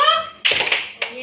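Children clap their hands together during a classroom counting game, giving a short burst of quick claps and then one more sharp clap, right after a voice.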